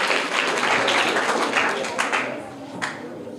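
Clapping from a quiz-show audience, a loud burst of many hands clapping together that gradually thins and fades, with a few sharp louder claps near the end.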